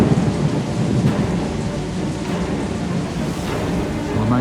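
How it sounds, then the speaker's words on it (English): A deep rumble of thunder rolls beneath steady, heavy rain at a campsite in Lakes Entrance, loud and close, the downpour continuing throughout. "You hear the thunder."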